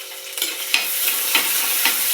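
Crushed ginger and garlic fry with curry leaves in hot oil, a steady close sizzle broken by several scraping stirs of a spoon through the pan, with no voices.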